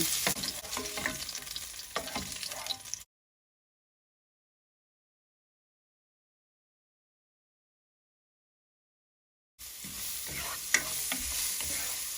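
Pork menudo ingredients with garlic and onion sautéing in a pan, a close, steady sizzle with utensil clicks and stirring scrapes, cut by a long stretch of total silence before the frying resumes.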